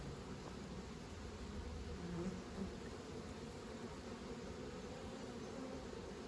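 Honey bees buzz softly and steadily in the background while a queen is caged, a faint continuous drone with no voices.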